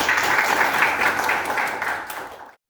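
Loud, sustained audience applause at a seminar on political ethics and Pancasila, many hands clapping steadily before cutting off abruptly into silence.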